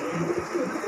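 Soft cooing of a Lakkad breed pigeon, a pure-bred fancy pigeon from Punjab and Haryana, heard briefly as low murmuring coos against a steady background hum.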